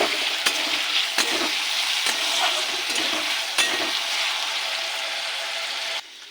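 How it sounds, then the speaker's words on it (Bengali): Potato pieces frying in hot oil in a pan, a steady close sizzle with a few sharp stirring scrapes throughout, the sizzle dropping suddenly near the end. "তেলটা গরম হয়ে গেছে, এবার দিয়ে দেবো আলু। আলুগুলোকে ভেজে নেব।"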